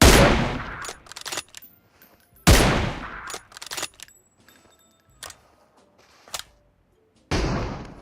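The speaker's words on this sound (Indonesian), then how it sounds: "Aku nak tembak, Mek." Gunfire from PUBG Mobile rings out in short sharp bursts, several loud close shots with quieter single cracks between them and brief silent gaps.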